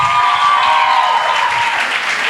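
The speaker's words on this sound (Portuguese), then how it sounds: "Uma salva de palmas" Dense, steady applause fills a church conference hall as a congregation claps for the preaching pastor, loud and continuous before slowly thinning toward the end.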